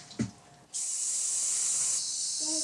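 An aerosol spray can is sprayed toward a child, bursting into a loud, steady, close hiss that runs continuously for about two seconds after a brief soft knock.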